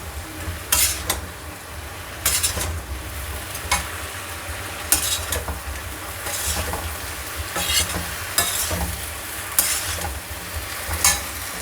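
Cauliflower pieces for gobi manchurian sizzle steadily in a pan while a utensil stirs and scrapes them in repeated sharp bursts roughly every second or two, close and clear with no voices.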